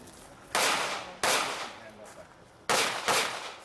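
Three sharp pistol shots ring out at an outdoor IDPA match, spaced unevenly, each a loud crack with a short ringing tail.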